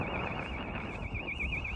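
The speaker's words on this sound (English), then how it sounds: "I think someone's house alarm's gone off." A house alarm sounds in a seaside town on the Kent coast, a steady warbling electronic tone repeating continuously at moderate distance over outdoor ambience, with no talking.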